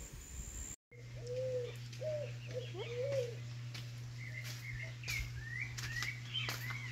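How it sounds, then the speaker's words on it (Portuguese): Pigeons coo low and steady while sabiá thrushes sing outdoors, their rising and falling whistles overlapping above a constant hum. One short break in the sound comes near the start. "É pomba, sabiá. Tudo quanto é passarinho cantando em cima aí."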